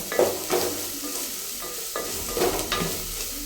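Ginger paste frying in a pan for vegetable rice, a low steady sizzle under a few intermittent stirring scrapes and light clinks of a utensil.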